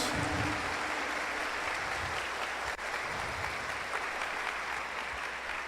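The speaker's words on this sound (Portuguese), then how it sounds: "Pode dar uma salva de palmas para Jesus na cruz." A church congregation applauds during a Catholic Mass homily, continuous crowd clapping heard at a distance with a roomy, reverberant tone.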